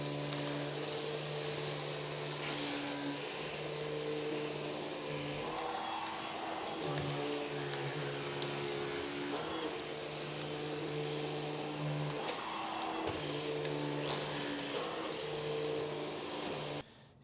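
A Wessel Werk EBK 280 DC cordless powerhead runs steadily on carpeted stairs, a loud continuous motor drone with a brush hum whose pitch shifts slightly as the nozzle moves from step to step, heard alone.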